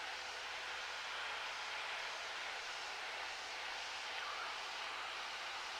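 Cessna 152 light aircraft engine droning steadily while climbing, a constant close cockpit roar with broadband hiss and no voices.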